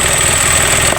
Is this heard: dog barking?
no